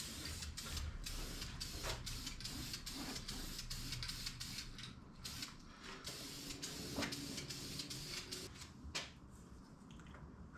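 Paint sprayed in light dusting passes onto a rebuilt big block Chevy engine for a 1967 Chevy, old valve covers fitted to keep paint off the springs; a steady, fairly faint hiss runs throughout with brief clicks and pulses.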